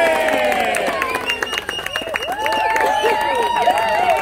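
Crowd at a fight walk-over in Fiji cheering, whooping and applauding loudly and steadily, with many overlapping shouted voices rising and falling throughout.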